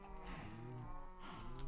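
Minecraft cows mooing in a farm pen, several low bellowing moos overlapping one after another, fairly loud and close with no talk.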